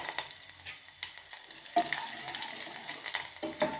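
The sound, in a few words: garlic frying in tempering with mustard and cumin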